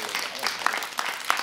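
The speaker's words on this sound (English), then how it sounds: "give me a hand clap" Preschool children clap their hands together in a scattered, uneven burst, with a few sharper individual claps standing out over a light background of young voices.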